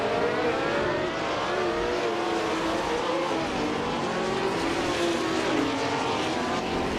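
Several race cars in a racing game, led by a classic 1967 Ferrari 312, roar off the start at the Buxton Rumbler track, their engines overlapping in a dense, rising whine and drone.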